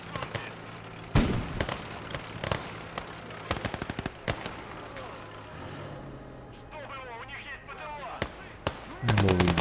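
Flak gun and mortar fire in the WW2 strategy game Gates of Hell: Ostfront, with rapid strings of sharp cracks and bursts of clustered shots over a constant battle rumble, ending in a heavy blast.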